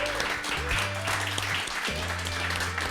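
Live concert audience clapping for the sound crew at the back of the venue, a steady wash of applause over low sustained stage tones.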